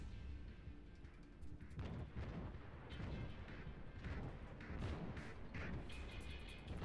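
Naval guns fire in World of Warships, the Gremjaschtschi, in a run of heavy booming salvos that start after a moment of low rumble, several loud blasts close together over continuous battle noise.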